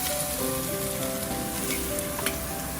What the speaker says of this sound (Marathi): आता आपण याच्यामध्ये भाजून घेऊया तुपामध्ये